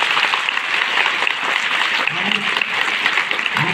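An audience at a Rajyoga training event in a girls' intermediate college breaks into sustained, dense applause, loud and even throughout, with a voice faintly underneath.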